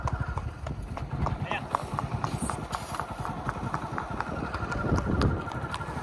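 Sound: horse hooves clip-clopping during ride

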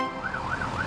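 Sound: cartoon fire truck siren

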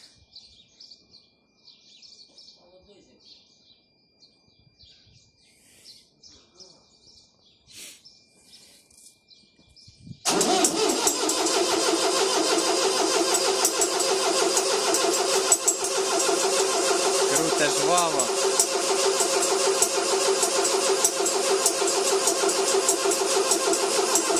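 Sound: diesel farm machine engine starting

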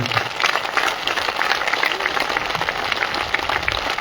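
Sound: audience applauding loudly

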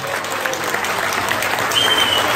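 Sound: audience applause for Ricardo Lajinha

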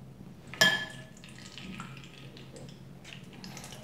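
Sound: water squeezed out of soaked bulgur wheat for kibbeh

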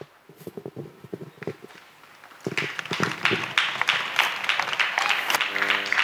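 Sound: congregation applauding

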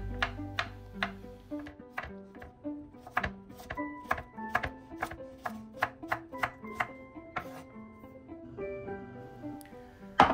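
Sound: knife chopping ridge gourd

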